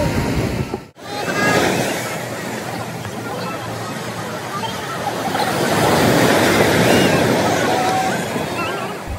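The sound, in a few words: sea waves at Digha beach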